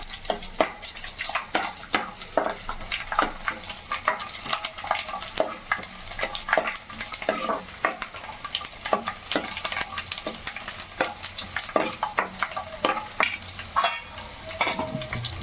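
Onions and garlic with cumin fry in oil in a pan for an egg pickle, giving a steady loud sizzle broken by frequent scraping clicks of a spoon stirring, with no talking.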